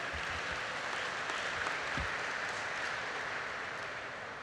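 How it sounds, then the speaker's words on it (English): Steady, dense applause from a convention audience, sustained clapping at an even level throughout without any talking. "give yourself an applause"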